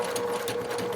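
A sewing machine stitches a fabric gift card pouch with Velcro, running in a steady, fast, even chatter throughout the short stretch, fairly quiet and close, with no talking.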